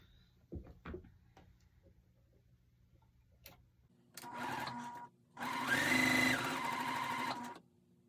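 Sewing machine stitches quilt fabric strips together in two steady whirring runs, the second longer and louder, after a few faint clicks and handling noises.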